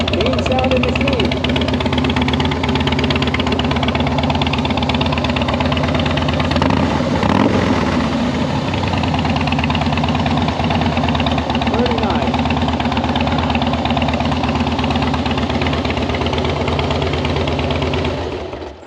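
A 2007 Harley-Davidson Softail Standard motorcycle idles close by, a steady loud engine rumble with an uneven, knocking beat that holds for the whole stretch.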